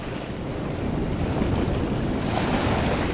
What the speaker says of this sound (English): this westerly wind has done exactly what was asked of it